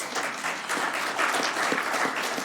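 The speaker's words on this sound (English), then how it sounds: "This year, yes, round of applause." A city council meeting audience in Sacramento breaks into sustained applause, a dense, even clapping from a room full of people that carries on steadily for a couple of seconds without a voice over it.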